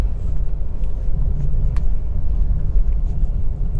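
Car engine in second gear pulling steadily after crossing a small speed breaker at just over 20 km/h, a continuous low rumble heard from inside the cabin.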